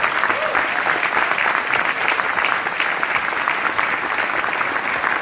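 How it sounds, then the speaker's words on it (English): Warm audience applause fills a hall, dense steady clapping from a large crowd that holds at full strength for over five seconds without pause. "round of applause"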